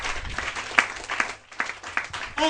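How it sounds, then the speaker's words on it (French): A church congregation applauds and claps in bursts, a mid-distance crowd sound rising and dipping over a couple of seconds. "acclamez le Seigneur"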